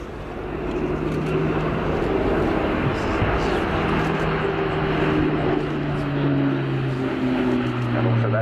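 An Airbus A400M Atlas turboprop transport roars loud and steady through a steep display turn at an airshow, a broad propeller drone with slowly shifting tones and a commentator talking over it.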